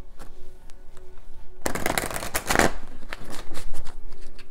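A deck of oracle cards riffled and shuffled by hand, a loud dense burst of close flapping card noise after a quiet start, then softer handling of the cards, with no speech.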